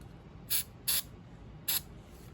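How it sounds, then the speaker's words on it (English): Grease sprays from an aerosol can in three short, sharp hissing bursts, close and fairly quiet, during a climate control repair on a 1999 Honda Acty HA7. "Spray a little grease on it."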